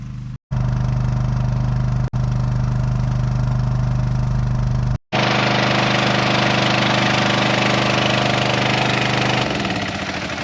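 A petrol-engined water pump running at a smallholding to fill a water tank, a loud, steady, close mechanical drone with a low hum, broken by a few abrupt cutouts before the running sound resumes and then fades toward the end.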